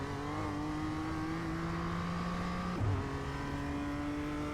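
A race car engine drones and bogs in second gear in a Nürburgring 24-hour racing sim, a steady loud low engine tone that dips briefly mid-way before resuming, heard close and continuous.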